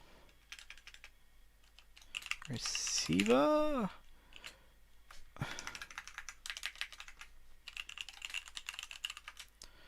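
Rapid keystrokes on a computer keyboard during programming work, light close clicks tapping in uneven bursts, briefly overlapped by a whistling rising and falling tone.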